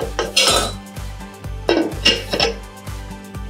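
A cooking pot of vegetarian chili being covered, with a few sharp metallic clanks and rattles of the lid against the pot, close and fairly loud, over a steady low hum.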